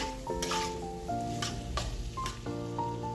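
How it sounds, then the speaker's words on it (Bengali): Potatoes frying and being stirred with spices in a pan. A soft sizzle with scraping and occasional clinks of the utensil sits under tonal background music. "আলুটা দিয়ে আমি ভালো করে কষিয়ে নিচ্ছি মশলাটাকে"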